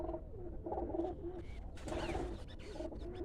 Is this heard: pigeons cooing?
yes